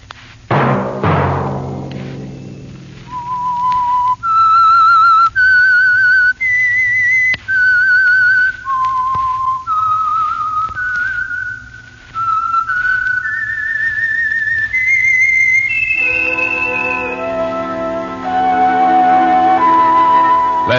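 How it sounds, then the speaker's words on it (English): A person whistles a clear, melodic tune, stepping through sustained notes of varying pitch, loud and close with no talking. "Let that whistle be your signal"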